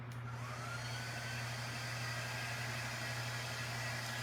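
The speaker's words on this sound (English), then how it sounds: "Let me just hit this with the dryer real quick." Handheld craft heat dryer blowing air during tier-tray decorating, a steady, even whooshing hum with a low motor drone underneath, continuous and close throughout with no talking.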